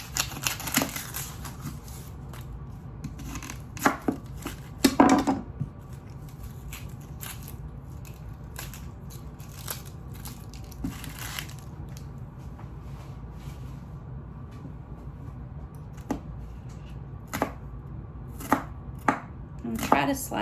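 Knife slicing red onion very thin on a cutting board, crisp chopping taps scattered irregularly across the span, some in quick clusters, close and fairly clear over a low steady room hum, no talking.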